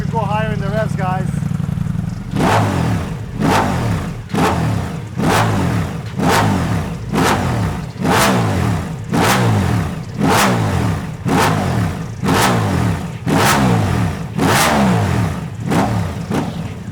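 A Ducati Diavel V4 fitted with a Termignoni Dragster exhaust is revved in repeated sharp blips, about fourteen deep, loud bursts at a steady rhythm, each rising and falling back to idle, close to the microphone.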